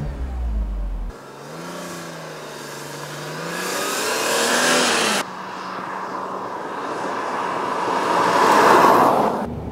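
Nearly new car with about 2,000 miles started up after a brief noise, its engine climbing in loud revving sweeps, then a cut and a second louder roar building toward the end.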